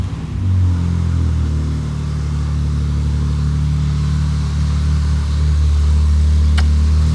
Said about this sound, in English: I got this Porsche 911 Carrera to fire up for the first time